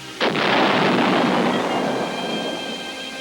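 Heavy artillery fire in a World War II battle in Italy's upper Volturno Valley: one loud, close boom bursts out, then a long rumbling roar slowly fades away.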